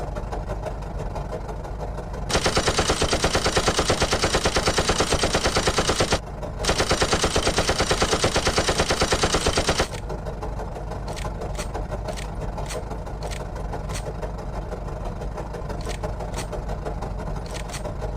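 Rapid machine gun fire from an Albatros D3 biplane in Microsoft Flight Simulator 2024, fired on the ground: two long, loud sustained bursts separated by a brief pause, over a steady engine idle.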